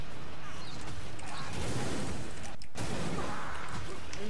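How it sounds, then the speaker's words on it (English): A gun fires in the co-op action game Vermintide amid loud, continuous combat noise: rapid shots and crashing impacts, briefly cut by a sharp break near the middle. "I'm using my gun."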